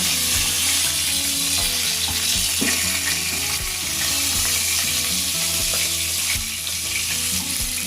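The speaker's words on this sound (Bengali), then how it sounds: "আমার মাছগুলো খুব ভালোভাবে ভাজা হয়ে গেছে। এবার আমি সব মাছগুলোকে এক এক করে" Fried katla fish pieces sizzle loudly in hot oil as they are lifted out one by one, with a continuous crackling fry broken by scattered utensil clinks and scrapes throughout.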